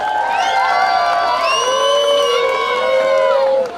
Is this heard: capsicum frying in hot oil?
no